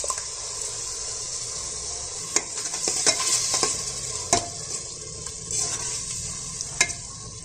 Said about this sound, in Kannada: ಇದೆಲ್ಲ ನೀಟಾಗಿ ಫ್ರೈ ಆಗಿ ಗ್ರೇವಿ ಥರ ಆಗಿ ಎಣ್ಣೆ ಬಿಟ್ಕೊಂಡಿದೆ